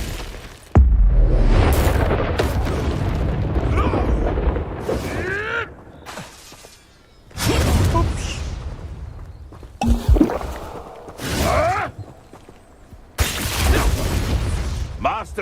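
Glacius freezing spell bursts in Hogwarts Legacy combat: several loud, sharp blasts with crackling, shattering tails come in separate bursts, with brief quieter gaps and some voices between them.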